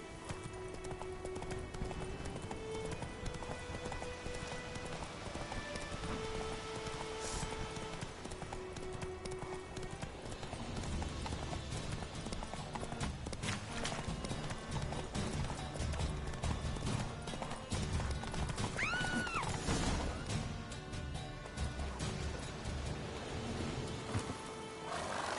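Roach, Geralt's horse in The Witcher 3, gallops with steady rhythmic hoofbeats under game music and ambience, with a brief whinny-like cry near the end, heard on a PS5 playthrough.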